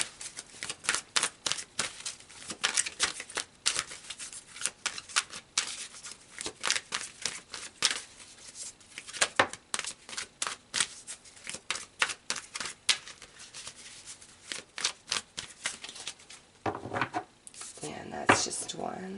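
Tarot cards are shuffled and pulled from the deck close up, producing rapid, irregular papery flicks and snaps that continue throughout, with denser rustling and handling toward the end.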